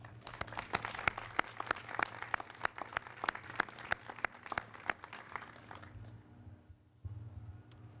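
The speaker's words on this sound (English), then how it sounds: "Please join me in a round of applause for our military families." Veterans Day ceremony audience claps for military families, a modest crowd with distinct, fairly near individual claps over steady applause, tapering off after about six seconds.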